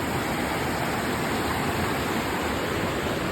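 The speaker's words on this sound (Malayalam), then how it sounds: "ഇതാ തോടാണ്" A stream flows steadily and loudly, a constant broadband roar like a small cascade close by, with no other sounds.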